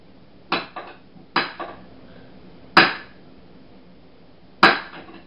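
Knife striking a cutting board in a home kitchen, four sharp chops spaced a second or more apart, some followed by a quick lighter second knock, close and clear with no talking.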